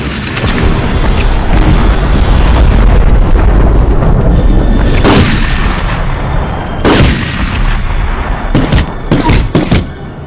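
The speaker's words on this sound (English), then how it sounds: "The full cacophony of warfare was brought to gamers' homes for the first time, and it sounded great." Warfare from the video game Medal of Honor: a dense, loud barrage of gunfire and deep booming explosions rumbles continuously, with sharper individual blasts and shots cracking through near the end.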